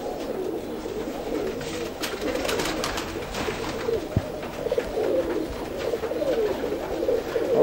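A pigeon cooing close by in low, soft, repeated throaty phrases, with faint rustling and shuffling in the background and no talking over it.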